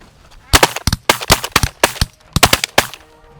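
Rapid volleys of shotgun blasts during a Canada goose hunt at a pond, loud and close, several shots fired in quick bursts across a few seconds with short pauses between groups.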